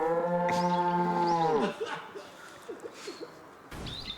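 A cow moos in a deer simulator video game, one loud sustained harmonic low, then it breaks off into scattered game clatter and faint chirps.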